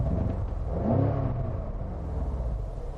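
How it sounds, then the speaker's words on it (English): A 2019 BMW M550i gives one brief rev with its exhaust valves open. The engine note swells and then settles back to a low, fairly quiet rumble. "you can hear the exhaust valves open if you rev it"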